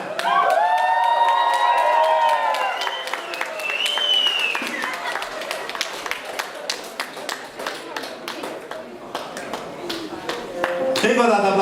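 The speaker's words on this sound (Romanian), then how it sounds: "Încă o dată aplauze." Wedding guests clap continuously in a lively room, with whoops and cheers rising at the start and end, and voices shouting and talking over the applause.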